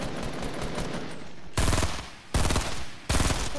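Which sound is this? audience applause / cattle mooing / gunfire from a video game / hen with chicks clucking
gunfire from a video game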